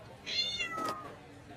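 A cat gives a single drawn-out meow that rises and falls, close and clear against a quiet background, with no talking.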